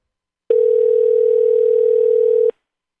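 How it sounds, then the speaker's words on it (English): A single steady telephone tone sounds for about two seconds, clean and loud, starting and stopping abruptly with silence on either side and no talking. "somebody could work out the phone number by listening to the tones"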